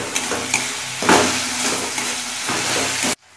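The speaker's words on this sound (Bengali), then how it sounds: "এবার দেবো আদা রসুন বাটা," Ginger garlic paste fries with softened tomato in a pan, a continuous sizzle broken by a few sharp scraping stirs, ending abruptly.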